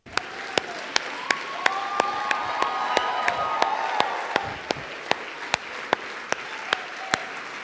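An audience at a live church-style comedy show claps and cheers for itself, steady applause with scattered whoops filling the room, punctuated by sharp regular percussive hits throughout.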